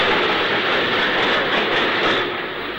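A 1960s steam train runs on the Oxford to Banbury main line near Banbury under a 15 mph restriction, giving a loud, steady rumble and rushing roar throughout.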